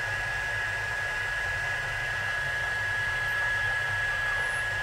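A heat gun blows steadily over a large surface during heat embossing, making a constant, close whooshing drone with a thin high whine and no breaks for several seconds.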